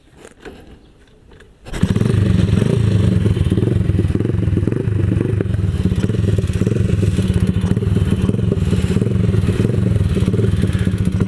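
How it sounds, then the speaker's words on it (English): A 127cc X7 pocket bike with a Honda engine starts after a quiet moment, then runs steadily and loudly up close, its engine note a constant buzzing drone with clattering mechanical texture. "today I'm gonna ride this pocket bike"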